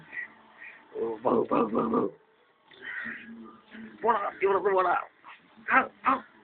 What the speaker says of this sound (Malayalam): നശിച്ച പട്ടി.